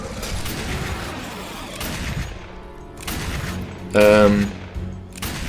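Bursts of gunfire in the shooter game Dark Sector, with several separated volleys and one louder burst near the end, someone talking over parts of it.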